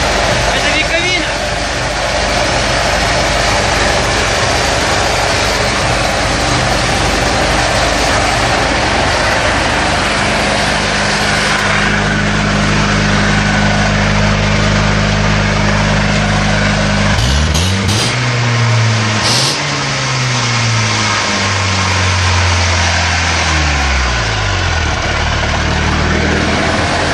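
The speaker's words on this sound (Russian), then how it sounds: "Вот такой катер Москва с мотором 406." A Moskva 2 motorboat with a 406 engine and a new muffler runs loudly and steadily, its low idle rumble shifting pitch as the throttle is worked toward the end.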